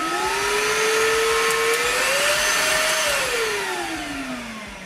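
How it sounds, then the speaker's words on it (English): A Homeika H016 cordless vacuum cleaner runs steadily at close range with a loud, continuous motor whine. Its pitch rises slightly partway through, then eases down toward the end. "There is only one button on the handle for starting the vacuum cleaner"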